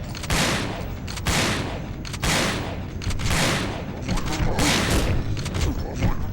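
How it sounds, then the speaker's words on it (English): Boss fight in the survival horror game Resident Evil Dead Aim, with loud, close gunshots booming in repeated heavy blasts, about five or six, each trailing a reverberant decay. "Again, just stand and shoot."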